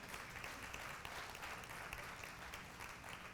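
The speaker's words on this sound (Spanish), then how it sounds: "Denle un aplauso a Cristo si se lo quieres dar" A church congregation applauds with steady, even clapping that stays constant throughout, quiet and distant in the room.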